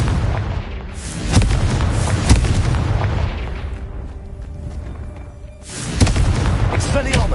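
Confringo fire-blast spell cast in the video game Hogwarts Legacy, with several loud booming explosive bursts and crackling impacts, alongside other spell effects and background game sound, with a voice nearby.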